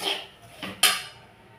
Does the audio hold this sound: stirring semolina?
yes